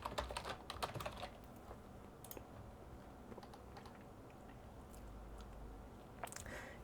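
Quick, light keystrokes on a computer keyboard, typed in short irregular bursts with pauses and heard close up in a quiet room.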